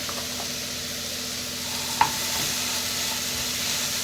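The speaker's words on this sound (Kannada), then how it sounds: "ಇವಾಗ ಇದಕ್ಕೆ ನಾವು ಕಡ್ದಿರೋ ಮಸಾಲೆ ಹಾಕುವ." Ground masala goes into pineapple frying in a pan for pineapple gojju, giving a steady low sizzle with faint stirring and one sharp clink of a utensil midway.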